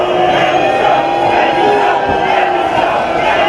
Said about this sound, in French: À son arrivée sur la promenade des Anglais, le Premier ministre est conspué.